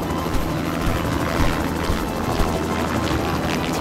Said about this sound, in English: T-Rex followed the helicopter and quickly climbed the entire peak.